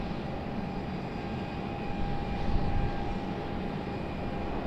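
A Frontier airliner flies past at Raleigh-Durham International Airport, a broad continuous engine roar that swells slightly midway, heard from a distance.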